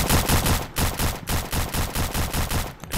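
Rapid, loud shotgun blasts from the Roblox game Task Force 2, about six close shots in an uneven rhythm with brief gaps, filling the clip alone with no talk.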